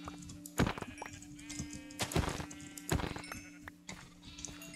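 Minecraft sheep bleat in four short, loud calls spread evenly across the stretch, set over a steady background drone of game music.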